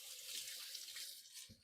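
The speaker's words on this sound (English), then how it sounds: "I'm going to go give my hands a quick" Tap water runs steadily into a kitchen sink as hands are rinsed, a soft continuous hiss and splash heard close but quietly, with a faint knock near the end.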